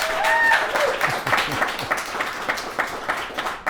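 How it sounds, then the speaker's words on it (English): An awards-event audience applauds a guest with moderately dense clapping that gradually thins out, plus a few voices and a brief tonal sound near the start. "Everyone give him a round of applause."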